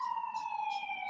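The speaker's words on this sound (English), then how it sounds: "you hear those sirens in the background?" Police sirens wail in the background with a steady, slowly falling tone and repeating rises and falls, clear but not overpowering, with no talking heard at this moment.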